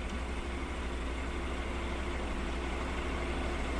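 A Honda NC700X motorcycle engine idles after a jump start, a steady, even low rumble that holds unchanged throughout, close by with no voices.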